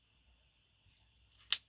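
Scissors snip through candy-box cardboard in a single quick, crisp cut near the end, fairly close, with quiet room tone before it.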